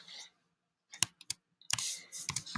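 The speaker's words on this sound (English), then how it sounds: "I can either double click or I can just click in here" Computer mouse clicks while editing in iMovie: a handful of sharp, close clicks in quick bursts with short silent gaps, some in rapid double succession, ending in a denser cluster of clicking.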